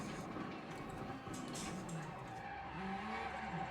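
Rally car in the Assetto Corsa Rally video game braking hard and sliding, a continuous loud tire skid with engine noise running the full few seconds.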